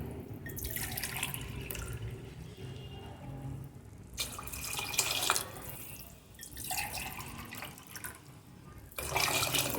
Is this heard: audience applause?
no